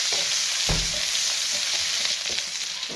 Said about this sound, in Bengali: রসুনটা একটু ফ্রাই করে নিই